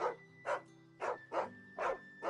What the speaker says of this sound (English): What kind of dog is that?